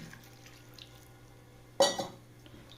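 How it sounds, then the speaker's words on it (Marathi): Potatoes cut for French fries being rinsed in ice-cold water in a bowl: a short burst of sloshing, splashing water near the end, close and fairly loud after a quiet stretch. "एकदम बटाटे स्वच्छ धुवून घेत आहे"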